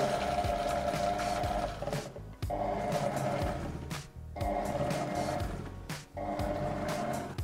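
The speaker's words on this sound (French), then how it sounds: "Puis j'allume le blender et je sélectionne la vitesse mélangée pendant 15 secondes." A blender mixes mayonnaise ingredients (salt among them) in bursts of loud motor whirring, roughly three runs broken by short pauses, close and alone.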